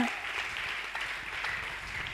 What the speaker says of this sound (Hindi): ताली बजाइए, आपके लिए